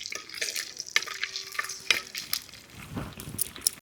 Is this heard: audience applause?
no